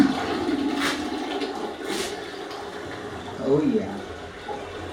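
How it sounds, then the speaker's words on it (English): A toilet flushes with a rushing, gurgling wash of water that swells and fades over several seconds, heard close in a small room while a voice speaks briefly. "This toilet flushes 3 times."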